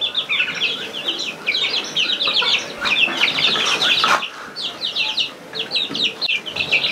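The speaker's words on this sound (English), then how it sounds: "they are all the hens laying eggs" Egg-laying hens kept for fresh eggs cluck and squawk continuously at close range, a busy overlapping flock chorus with no speech.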